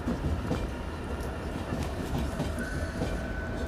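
A passenger train runs along its rails with a continuous close rumble and a faint clickety-clack of wheels, steady throughout with no talk.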